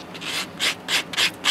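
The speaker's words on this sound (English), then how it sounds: "now you just detail it with sanding" A coin ring is sanded smooth by hand, giving rhythmic, raspy rubbing strokes in bursts of about a quarter second, loud and close, with no talking.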